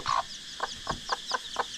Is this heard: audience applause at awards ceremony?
no